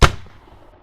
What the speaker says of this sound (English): because it is a shotgun we're trying to make